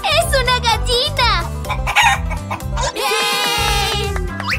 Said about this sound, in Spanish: ¡Es una gallina!